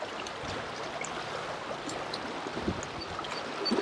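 Fast-moving creek water rushing past a boat on a smallmouth bass fishing trip, a steady broadband churning and splashing at close range with a few small knocks, no talking.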